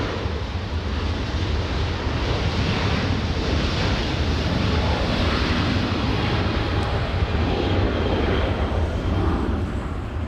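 A Virgin airliner taking off at Los Angeles airport: a loud, steady broadband jet engine roar that holds constant throughout, with no talk.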